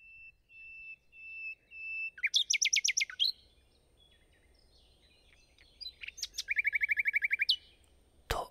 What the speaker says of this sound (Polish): Rzeczywiście, niebawem rozległa się pieśń słowika.